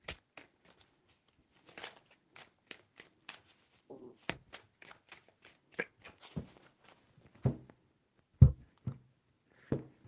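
A deck of tarot cards is shuffled by hand in a quiet room, producing crisp riffling bursts and soft taps in an irregular rhythm, close and fairly faint, with a few sharper knocks near the end.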